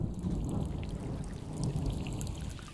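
Rain sound effect layered into a song, a steady dense wash of patter with low rumbling texture running continuously at a fairly even level throughout.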